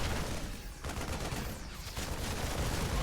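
StarCraft II marines, a large massed group of around seventy, firing in a game battle: dense, continuous rattling gunfire with layered bursts and explosions, loud and unbroken.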